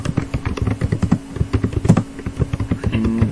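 Rapid clattering keystrokes on a computer keyboard while code for a sorting algorithm is entered, close and steady with no voice.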